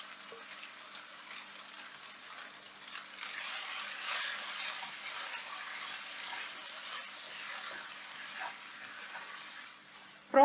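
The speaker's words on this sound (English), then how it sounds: "It's now perfect time to drop in the prawns." Prawns dropped into a hot pan on a high flame for prawns masala, giving a steady, moderately loud sizzle that swells after a few seconds and holds, with no talking.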